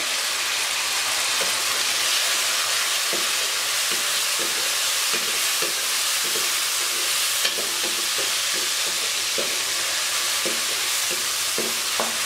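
Chopped tomatoes added to frying onions in a pan for an aloo keema dish hiss in a steady, loud sizzle, with repeated scraping clicks of stirring scattered throughout.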